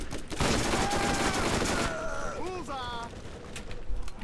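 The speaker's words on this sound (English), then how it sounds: "I'm shooting him" Gunfire in the video game Borderlands: a dense, continuous burst of shots for about two seconds, followed by game tones and a voice talking over quieter background noise.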